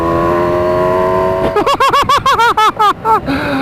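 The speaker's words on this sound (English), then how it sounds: "Upshifting on the bike, super smooth as well." A Kawasaki Ninja H2 motorcycle engine revs in a quick series of short, rising pulses as it shifts up smoothly through the gears, loud and close.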